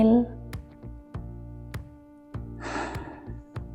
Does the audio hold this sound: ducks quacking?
no